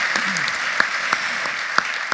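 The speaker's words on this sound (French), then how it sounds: "Ouais, on peut l'applaudir." Audience applause at a round-table event on the Olympic flame relay, a steady dense wash of clapping with a few sharper individual claps standing out, continuous throughout.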